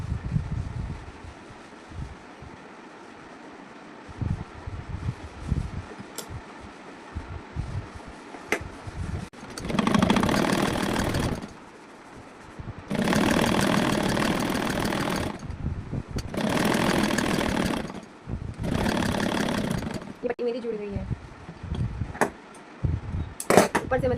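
A sewing machine stitches through the middle of a joined collar strip on a round-neck blouse. Several short, loud runs of whirring are separated by pauses with handling noise and talk.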